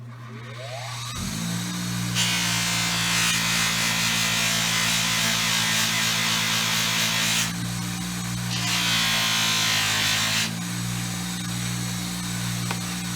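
An electric buffing wheel spins up on a wooden coffee table under restoration, humming steadily with two long stretches of louder, rushing abrasive contact against the wood, separated by a brief lighter pause.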